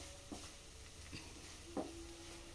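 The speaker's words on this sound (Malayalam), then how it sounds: "ഇനി നമുക്ക് നല്ലപോലെ ഇതൊന്ന് ഇളക്കി കൊടുക്കാം" Potato fry cooking Kerala style in a pan with garam masala and fennel is stirred, with three faint scraping strokes of a spoon over a low, quiet background hiss.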